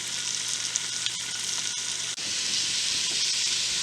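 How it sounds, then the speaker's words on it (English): Chopped carrots and celery sizzle steadily in a pot while sautéing for a seafood chowder, a loud continuous frying hiss with one brief dip midway and no talking. "Listen to the sizzle."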